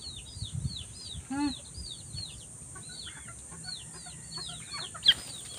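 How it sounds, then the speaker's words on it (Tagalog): Short clucks and calls from a chicken repeat through the clip, with a louder squawk near the end over a quiet background. "Isturbo yung manok."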